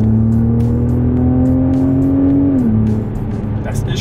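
A BMW M8 Competition with an AC Schnitzer exhaust pulls hard under acceleration, its loud close-up engine note climbing steadily before a gear change, then droning on with no talk over it.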